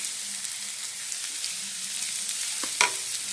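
A spoon stirs mashed potato filling for vada pav with chopped coriander and salt in a pan, a soft steady scraping and light sizzle throughout, with one sharper scrape near the end.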